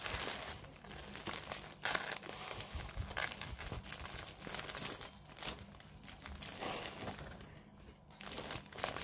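Plastic packaging of an AliExpress cross-stitch kit crinkles and rustles as it is opened, with irregular close crackles and tearing bursts over about nine seconds.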